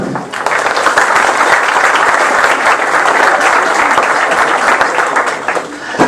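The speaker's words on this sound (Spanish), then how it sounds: "Aplausos por favor." Audience at an academic conference seminar applauding, a dense, steady wash of many hands clapping close and loud throughout, tapering slightly at the end.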